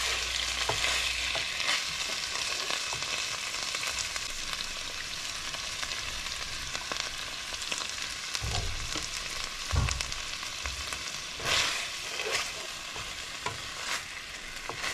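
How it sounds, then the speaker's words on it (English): Saucy sloppy joe mixture simmers in a pan with a constant low sizzle, broken by occasional scraping and clunking as a utensil stirs it, close up with no speech. "we're just going to simmer that for a few minutes"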